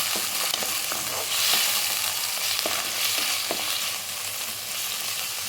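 Steady sizzling of tomato and onion frying in a pan, with occasional scraping clicks of a spatula stirring, continuous and fairly loud with no voices.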